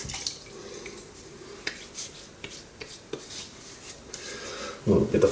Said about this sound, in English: A little bit of water on there